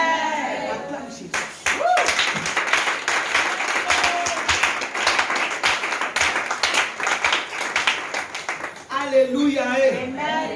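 A church congregation claps and cheers in acclamation, loud sustained applause that swells for several seconds, with a preacher's voice talking before it begins and again as it fades.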